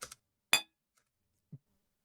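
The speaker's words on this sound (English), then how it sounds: "like a glass bottle that I tinked, and that is just for the back foot stepping onto the glass" A glass bottle tapped for game sound design, a single bright, short tink standing alone in silence, with a couple of softer clicks around it.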